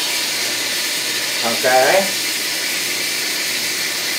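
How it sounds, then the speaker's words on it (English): Steam hisses steadily from a pressure cooker in a kitchen, a loud, even rushing hiss that runs the whole time while someone briefly speaks over it. "and this steam comes up, okay?"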